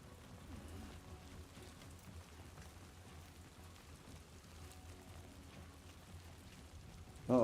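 Steady rain in the video game Death Stranding 2 patters on surfaces, a constant hiss with soft drops throughout, then a brief louder burst right at the end.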